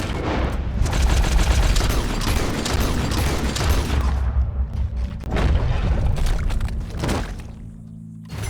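Gunfire in the video game Red Dead Redemption 2: a loud, dense volley of booming shots with rapid repeated cracks and heavy thuds, fading into quieter scattered blasts toward the end.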